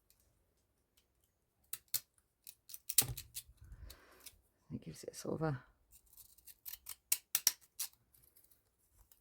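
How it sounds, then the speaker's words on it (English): Scissors snip through paper in a series of sharp, close clicks and cuts, scattered across the stretch with a pause in the middle, while a person speaks briefly. "I'm going to cut those with the funny scissors."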